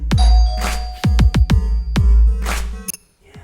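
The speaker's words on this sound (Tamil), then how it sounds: "இப்போ யார் வந்து காலிங் பெல் அடித்தாங்கன்னா" A hotel room doorbell chimes in a repeated ding-dong pattern, a string of loud, close electronic tones with sharp attacks and ringing decay, the last one cut short, and no voices.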